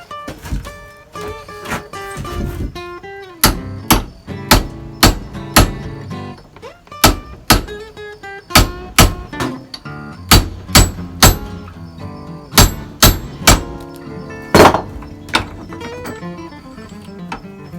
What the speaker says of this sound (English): See if I can use a center punch to kind of wedge it out of the way.